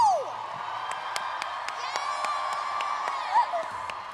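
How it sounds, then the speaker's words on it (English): At a panel event, the audience cheers and whoops for the host amid scattered sharp claps, a lively crowd roar running throughout with a brief louder shout near the end. "can we just give a huge round of applause for Jiana for hosting this today?"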